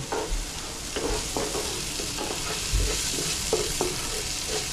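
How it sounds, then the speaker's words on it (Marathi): Onions sautéing in a pan for a home-made prawn biryani, with a steady hiss of frying oil and repeated scraping strokes of a spoon against the pan throughout. "कांदा परतवत आहे"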